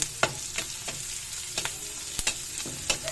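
Onion and garlic sautéing in a pan for lumpia toge, a constant bright sizzle punctuated by regular scraping stir strokes, close and alone.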